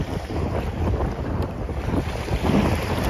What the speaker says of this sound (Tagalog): Medyo malakas ang hangin, kaya mahirap mag-video.